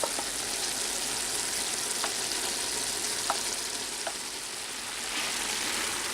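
Minced meat lightly frying in a pan for a peppers moussaka, giving a steady, even sizzle throughout, with a few faint scrapes or taps of a utensil.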